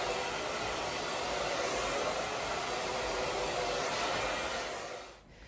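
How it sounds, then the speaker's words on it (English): A clothes dryer runs steadily at home, a continuous broadband whirring rush that holds constant before tapering off at the very end. "I'm gonna go put the clothes in the dryer"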